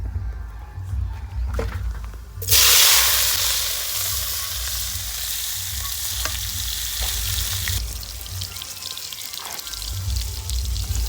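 Fenugreek, mustard seeds and pounded onion hit hot oil with a sudden loud, dense sizzle that carries on steadily to the end, with a few stirring clatters and nobody speaking.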